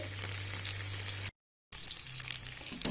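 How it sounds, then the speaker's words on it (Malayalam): Chicken 65 pieces deep frying in hot oil, a steady dense sizzle throughout with a brief silent gap partway, close and fairly loud with no talk. "ഇതും അതേപോലെ നമുക്ക് ഫ്രൈ ചെയ്തെടുക്കണം."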